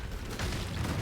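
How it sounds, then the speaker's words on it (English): An explosive arrow blast pops in a video game, a dense low rumbling burst that swells after a brief buildup and holds loud and close for about a second, with no talk. "with explosive arrow, basically you got to wait that second for the explosion to pop"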